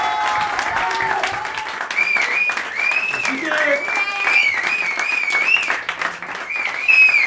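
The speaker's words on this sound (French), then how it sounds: "On peut les applaudir encore." A theatre audience claps warmly after a performance, with dense, even applause lasting throughout while a voice briefly speaks and tonal sounds ring over the clapping.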